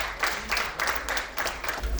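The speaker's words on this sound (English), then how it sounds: "Please let's give him a round of applause as he comes up" An audience at an alumni association evening event in Abuja claps for a speaker coming up, a moderate burst of applause with uneven rhythmic clapping swells, briefly heard from mid-distance.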